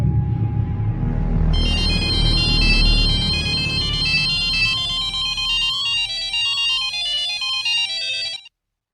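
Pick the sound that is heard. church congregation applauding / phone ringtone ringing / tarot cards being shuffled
phone ringtone ringing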